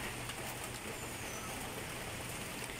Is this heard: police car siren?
no